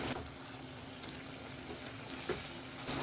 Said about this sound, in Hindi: अब अच्छे से हम भूनेंगे।